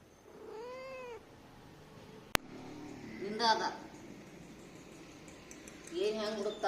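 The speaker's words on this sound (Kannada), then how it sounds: "ಬ್ರೌನಿ ಕ್ಯಾಟ್ ಬಿಸ್ಲಾಗ ಮಜಾ ಬರತೈತಿ." A brown cat sitting in the sun gives a clear rising meow, then later a couple of shorter meows, with a sharp click and some low background rustling in between.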